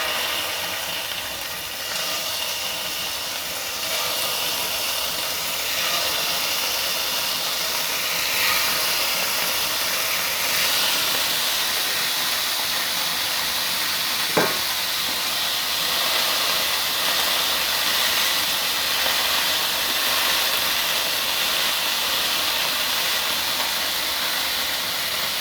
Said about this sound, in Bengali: তেলটা গরম হয়ে গেছে, আমি এখন কাবাবগুলো দিয়ে দিচ্ছি।